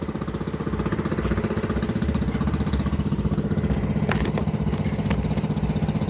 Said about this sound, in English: this is gonna be a homelite chainsaw massacre video with two toys running in the foreground.